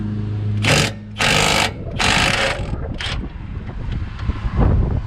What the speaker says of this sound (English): 15 millimeter gets this nut off.